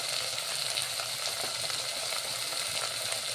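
Ginger garlic paste frying in a pot of cooking masoor dal, a dense close sizzling hiss with small bubbling crackles, steady and even for the whole moment.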